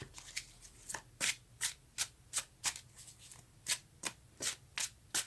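Tarot cards are shuffled by hand up close, a quick run of crisp riffling bursts repeating in an uneven rhythm, fairly quiet with no voices.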